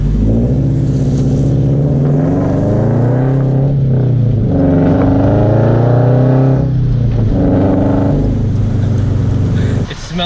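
A Scion FR-S fitted with a UEL header revs loudly up close, its deep exhaust note rising and falling in several long swells before cutting off near the end.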